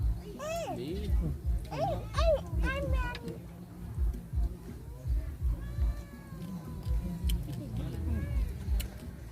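A cat meows repeatedly, with several clear, rising and falling cries early on and fainter ones later, mixed with people talking nearby.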